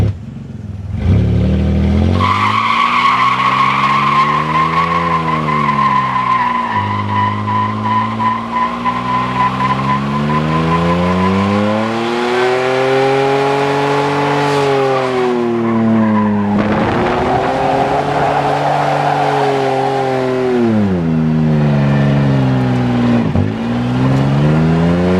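A car's tires slip and squeal, drawn out over about twenty-five seconds with wavering pitch along with a loud engine drone from a large car with no power steering.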